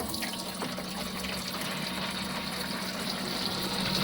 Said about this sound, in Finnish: vesi juoksee.